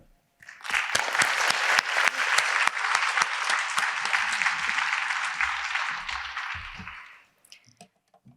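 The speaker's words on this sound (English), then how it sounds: "Let us show our appreciation with a round of applause." A crowd applauds steadily for about seven seconds, a dense wash of claps that fades out at the end.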